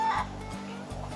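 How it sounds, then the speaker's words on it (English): Chickens clucking nearby in a backyard where chicken is being barbecued, a short burst of soft, low clucks fading into quiet outdoor background. "they start clucking over there"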